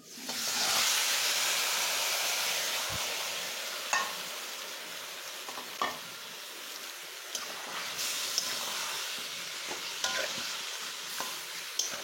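Chicken pieces sizzle and hiss loudly in a hot pan of spiced oil with ground coriander for an old-style hand-mixed chicken curry, a steady frying roar broken by occasional stirring clicks and scrapes.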